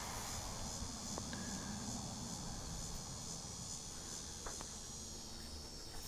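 Honey bees buzz around a sugar water feeder, a steady, dense insect hum that continues for the whole span at low volume, with no talking.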